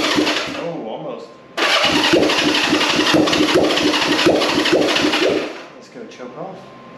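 A 1965 Honda CB450 Black Bomber motorcycle with a new engine and the choke on cranks and catches, running loud and close at a steady, lumpy idle for several seconds before it cuts out.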